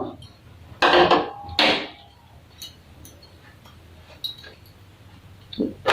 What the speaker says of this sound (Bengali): আমি এখন চাকু দিয়ে কেটে দেখাবো